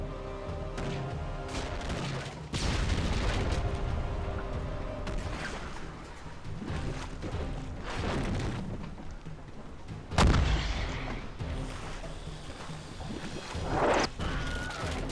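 Ship cannon fire during a naval attack in the Pirates of the Burning Sea video game, with heavy booms over a continuous rumbling battle din and a sharp loud blast near the middle.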